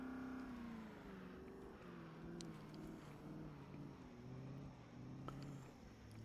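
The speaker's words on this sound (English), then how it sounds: "listen to that engine whine" A car engine whines in the Project Zomboid video game during off-road driving, a steady droning hum whose pitch slides up and down as it revs, heard continuously and fairly quietly with no voices.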